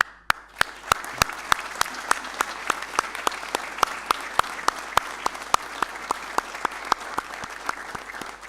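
A ceremonial audience at the 470th anniversary of the city of Ponta Delgada claps in a strong, evenly paced rhythm, with loud individual claps standing out over a continuous bed of applause.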